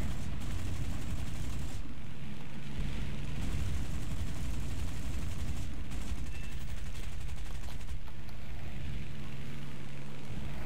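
Cannons on a Spitfire fighter in the War Thunder video game fire in dense, sustained bursts over a constant engine roar, loud and continuous with short breaks between volleys.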